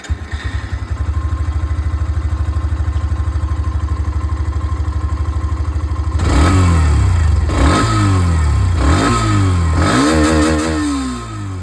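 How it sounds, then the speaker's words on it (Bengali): A Hero Xtreme 125R motorcycle idles with a steady close exhaust thrum, then its engine revs hard several times in rising and falling bursts toward the end. "এবার এক্সট্রিম 125 এর আওয়াজটা আপনারা শুনে নিন।"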